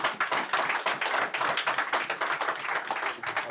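Church congregation applauding in a worship service, a steady dense clapping that fills the room without pause.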